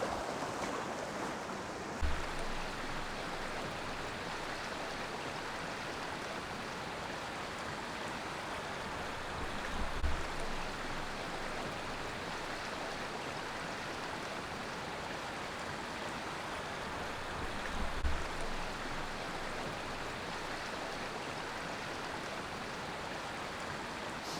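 A small brook at Bodorgan, Anglesey, flows with a constant close babbling rush of water, with a few soft low thumps now and then and no voices.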